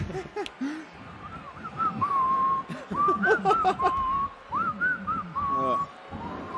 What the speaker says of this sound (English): I feel like whistling a little tune.